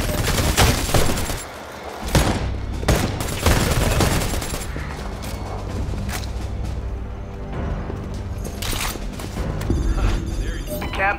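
Enemy gunfire in the video game Predator: Hunting Grounds, a loud fireteam firefight with sharp repeated shots and bursts scattered through the clip, over game sound and music.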